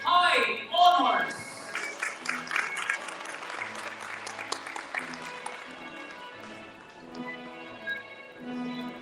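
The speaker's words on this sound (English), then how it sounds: "Once again, give yourselves a big round of applause." Loud applause from the crowd at a Grade 12 graduation ceremony. It bursts out strongly at the start, then settles into steadier clapping that continues to the end, with voices mixed in.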